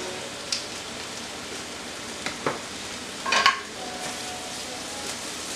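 Tomato paste stirred into sausage and peppers in a pan, a soft steady sizzle with a few brief scraping bursts of the utensil, close and moderately quiet, no talking.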